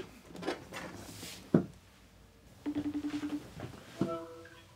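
A telephone being dialed to call someone: a quick run of about eight short, evenly spaced keypad beeps, with scattered clunks and handling noises before and after.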